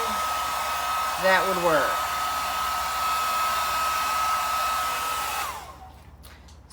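A heat tool on its low setting blows a steady, close whir over acrylic pour paint, with someone briefly speaking near the start, before the airflow winds down and cuts off near the end.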